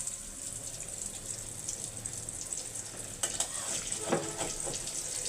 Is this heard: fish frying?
yes